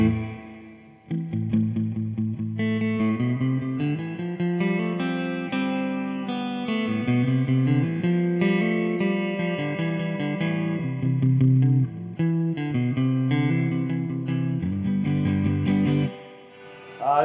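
An electric guitar played through a Yamaha G100 amp with heavy surf-style reverb set around 5, sustained chords and melodic lines ringing out steadily and fairly loud for most of the passage.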